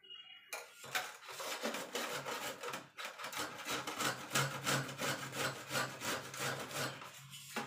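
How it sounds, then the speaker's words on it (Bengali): A carrot being cut for gajar halwa in a home kitchen gives close, steady rhythmic scraping and knife strokes on a wooden surface, with no talking. "আমি গাজরটা কেটে নিয়ে এসেছি"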